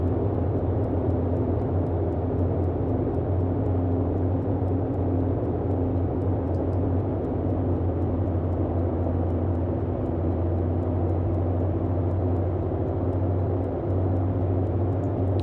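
Twin radial engines of a Boeing 247D airliner in flight in Microsoft Flight Simulator, a loud, steady propeller drone with a low throbbing hum holding constant throughout and no talk over it.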